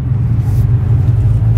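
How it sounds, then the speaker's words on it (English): A deep, loud exhaust rumble from a 2008 Ford Mustang Bullitt with a Borla exhaust, steady and throaty throughout the short moment. "absolute music coming out of that Borla exhaust"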